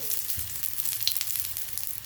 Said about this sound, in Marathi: गरम झाला की आपण याच्यावर वड्यात ठेवून देऊ आणि दोन्ही बाजूने तळून घेऊ